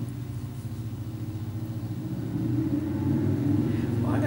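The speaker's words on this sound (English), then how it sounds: "Well, I got garbage trucks and motorcycles and everything going by today." A low rumble of passing street traffic, garbage trucks and motorcycles, swells gradually from moderately distant to closer and louder, a steady engine drone throughout with no talk.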